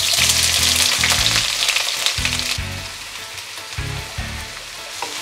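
Sliced onions frying in hot ghee, a loud dense sizzle up close, interrupted by rhythmic low thuds of stirring at intervals, fading slightly toward the end.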